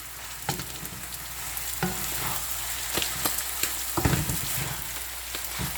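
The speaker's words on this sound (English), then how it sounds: "I will just combine my togi or togi bean sprouts and just simply stir it nicely" Togi bean sprouts stir-fry in a pan for a vegan dish, with a steady close sizzle broken by scraping strokes of the spoon and a few sharper clatters.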